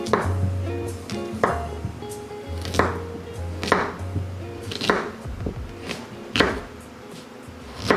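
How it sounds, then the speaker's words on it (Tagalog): Peeled potatoes being chopped into large cubes with a knife on a board, a steady run of sharp, close knocks at a roughly even rhythm, with a low hum underneath. "balatan na natin yung patatas natin, and then hatiin natin siya into bigger cubes"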